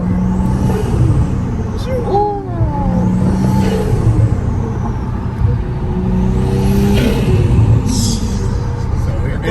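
Remnant Performance 65 mm Omega turbocharged engine being revved, loud close engine roar rising and falling with repeated whooshing blow-off hisses between pulls, a voice heard briefly over it.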